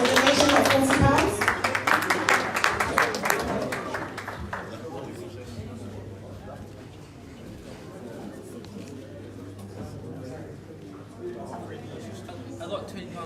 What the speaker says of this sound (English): here we have a round of applause for this lovely gentleman here